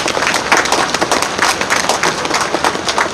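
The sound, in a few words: audience applause at a street election rally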